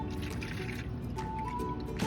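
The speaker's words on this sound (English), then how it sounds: "let me fill up your can again" Water trickles and drips steadily into a watering can being refilled outdoors, a faint, continuous liquid sound close by with no talking.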